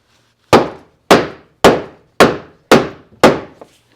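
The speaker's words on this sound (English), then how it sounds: "Go to 12 and pound the bottom of that in." A wooden plank is hammered into place on a boat under restoration: six sharp, close-up blows land at an even, steady rhythm, each ringing out briefly before the next, with no talking.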